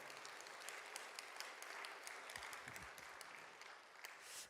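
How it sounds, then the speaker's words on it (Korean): A church congregation claps together in a steady, dense round of applause that holds evenly for several seconds and fades at the end, with no voices over it. "이럴 때 박수 한번 쳐야죠."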